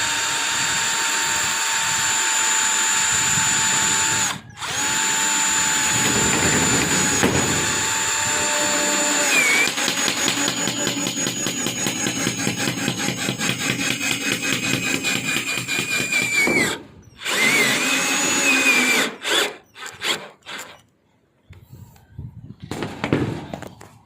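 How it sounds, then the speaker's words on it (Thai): A screw gun drives screws into metal sheet roofing: a loud, steady motorized whine that shifts pitch under load, then breaks into choppy, rattling bursts near the end. "เราจะยิง น็อตสกรูนะครับ ไม่พลาดเลยนะครับ นี่นะครับเราก็ทำการยิงไปกึ่งกลางนะครับ"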